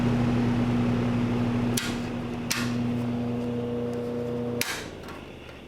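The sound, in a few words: 1960 ILG WindowAire window fan with its hub slipping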